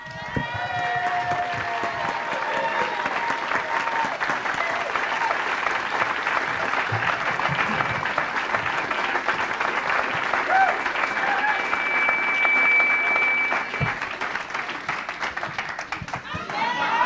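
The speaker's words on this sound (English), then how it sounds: "I hope we'll give an applause." Sustained audience applause fills a roast honoring a married man, steady and fairly loud, with scattered voices and whoops mixed into the clapping throughout.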